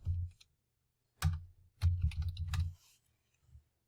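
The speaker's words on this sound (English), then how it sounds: "I'm going to type in birthday girl magic." Keys clack on a computer keyboard as text is entered for a print-and-cut heat transfer T-shirt design, coming in a few short close bursts separated by brief pauses.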